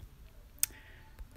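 Fingers tap the keys of a phone's on-screen keyboard while typing, giving a few faint, sparse clicks close by, with one sharper tap standing out in a quiet room.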